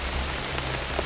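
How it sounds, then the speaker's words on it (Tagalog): Steady rain pattering on a surface during heavy rainfall, a continuous close hiss with no voices over it. "Pero bisa ulan."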